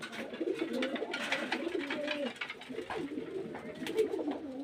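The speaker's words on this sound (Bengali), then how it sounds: "এগুলো সব মুর্শিদাবাদের গিরিবাদ পায়রা" Murshidabad Giribaz pigeons coo softly and repeatedly nearby, their low rolling calls overlapping, with faint rustles and a quiet voice now and then underneath.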